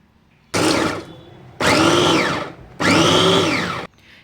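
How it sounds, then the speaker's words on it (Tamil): An electric food chopper mincing onion and capsicum whirs loudly in three separate bursts of about a second each, with short pauses between them and no talk. "என்னோடய சாப்பரில் போட்டு நல்லா வந்து அரைச்சி எடுத்துக்க போகிறேங்க"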